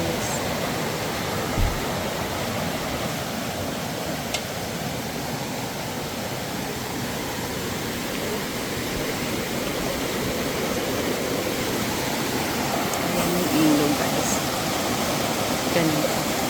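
A clear river flows right beside a campsite tent at Sta. Inez, Tanay, Rizal. Its broad, constant rushing roar stays close and steady throughout, with only a few faint knocks against it.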